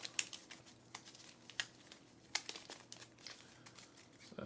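Quiet, crisp card shuffling of Dice Throne upgrade cards during a board game, a loose run of soft riffles and sharp flicks with irregular rhythm, close by and with no talk.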